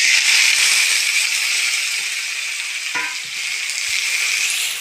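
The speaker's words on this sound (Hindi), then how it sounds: "ये फूल गोभी जो बॉयल है इसको हल्का थोड़ा सा तेल में फ्राई कर लेते हैं" Boiled cauliflower frying lightly in a little oil gives a loud, dense, continuous hiss and sizzle that holds steady throughout, with one brief soft stir partway through and no voices.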